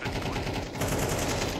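Rapid automatic gunfire in CS:GO, a brief steady burst of closely spaced shots lasting under two seconds at moderate loudness.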